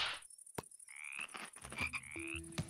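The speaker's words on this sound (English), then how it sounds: "Frogs, look at the frogs!" Frogs croak in the Minecraft video game, a few distinct, bright chirping croaks with short pauses between them, heard alone with no voices.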